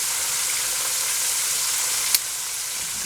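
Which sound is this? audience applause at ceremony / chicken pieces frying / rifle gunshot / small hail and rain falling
chicken pieces frying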